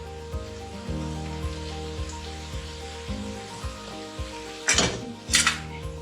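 Hakka noodles tossed and stirred in a pan, with soft scraping and light sizzle under a steady low hum, then two sharp metallic clatters of utensil on pan near the end.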